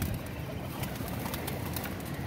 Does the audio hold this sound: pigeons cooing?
yes